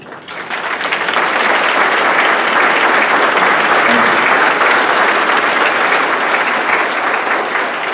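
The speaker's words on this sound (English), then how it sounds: "would you please stand up and let us just give you a round of applause?" Loud, sustained round of applause from a crowd at a Republican Party state committee meeting, rising quickly and holding as a dense, continuous clapping roar for several seconds.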